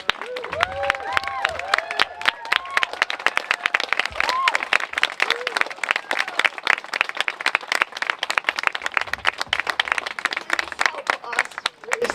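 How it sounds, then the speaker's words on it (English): A crowd at a Pride Flag Day 2023 gathering stands and applauds young people, with dense, loud clapping throughout and a few whoops and cheers rising over it early on. "Can we actually stand up and applaud the young people?"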